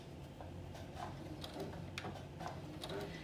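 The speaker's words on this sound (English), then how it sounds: "So I'm gonna start at the dots and I'm going to back stitch there." A sewing machine back stitching fabric sounds as quiet, faint mechanical ticks and light clicking, spaced irregularly over a soft background hum.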